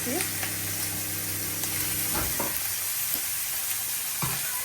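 Fish fries in a pan with a constant close sizzle, a few soft utensil knocks, and faint voice-like sounds in the background.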